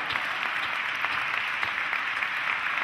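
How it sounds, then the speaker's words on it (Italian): Audience applause at a local radio event, heard as steady, fairly loud clapping from a crowd that runs through the whole clip without a break. "E adesso che avete finito di fare applausi"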